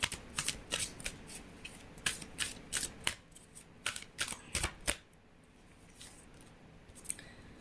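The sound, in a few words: shuffling a tarot card deck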